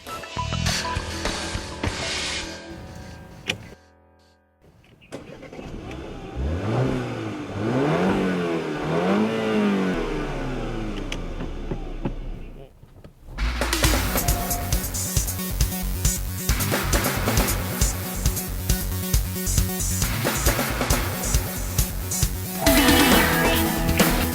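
Porsche Macan with a turbocharged four-cylinder engine, heard driving and accelerating: loud, close engine note that climbs through revs, a short dip and pause, then sustained hard acceleration with steady mechanical rumble.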